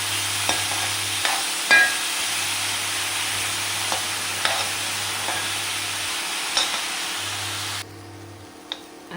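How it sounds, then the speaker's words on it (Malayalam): Vegetables stir-fried with salt in a pan for fried rice give off a steady hiss of sizzling, broken by occasional scrapes and clicks of stirring, with a low hum underneath that drops away near the end. "ഇനി അതിൽ ലേശം ഉപ്പിട്ടിട്ട് നമുക്ക് ഉപ്പിട്ട് വഴറ്റി കൊടുക്കാം"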